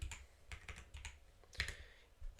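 Rapid clicks of a computer keyboard as a command is typed, a short quick run of close, soft keystrokes with one slightly louder tap near the end.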